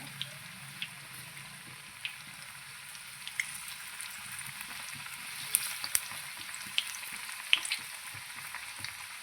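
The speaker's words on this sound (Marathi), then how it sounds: "आता अशा पद्धतीने आपण सगळे पावडे आहेत ना तळून घेऊ" Pav vadas deep-fry in a kadai of hot oil with a soft, steady sizzle, scattered small pops and bubbling crackles rising now and then over the constant hiss.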